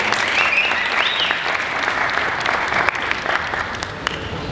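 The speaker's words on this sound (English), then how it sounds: "Can we please have a round of applause for them?" An audience at a cohort launch event gives sustained, dense applause, many hands clapping steadily and loudly throughout, with a few whoops over the crowd.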